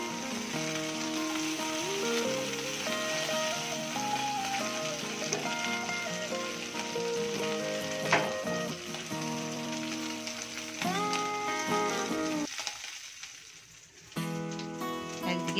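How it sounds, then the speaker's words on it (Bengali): Koi fish (climbing perch) fry in hot oil with a constant crackling sizzle, under melodic background music, moderately quiet and continuous with a short dip near the end. "একদিকে মাছগুলো ভাজা হচ্ছে"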